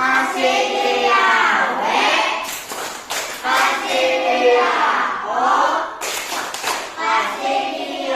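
A class of children chant a rhythmic 'tepuk wow' cheer in a primary school lesson, with bursts of sharp group clapping between the sung lines. The voices are loud and close, and a teacher speaks between the chants.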